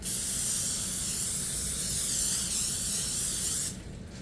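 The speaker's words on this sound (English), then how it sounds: "Give it a little spray." A steady cooking spray hisses continuously into a casserole dish for several seconds, close and loud, then stops abruptly near the end.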